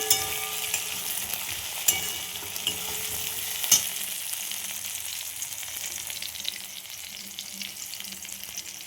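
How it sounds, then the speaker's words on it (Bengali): Onions and potatoes fry in a pan for a stingray curry, giving a steady close sizzle with scraping and clinking as they are stirred, and a few sharper taps of the spoon along the way. "পেঁয়াজ আলু ভাজা হয়ে গেছে"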